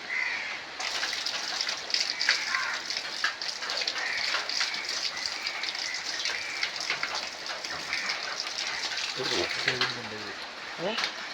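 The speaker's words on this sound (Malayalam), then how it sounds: "നല്ലൊരു ശാന്തമായ മഴ" Gentle, steady rain patters outdoors as a continuous soft hiss, with crows cawing intermittently and a voice speaking briefly near the end.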